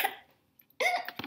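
A voice imitates a rabbit's hiccups: a short burst, then after a pause a louder, close cluster of hiccup-like gulps and vocal catches over about half a second.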